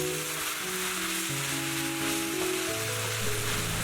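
Water spinach (genjer) and bean sprouts stir-frying in a pan give a steady, dense sizzle from start to finish, close and alone with no talk.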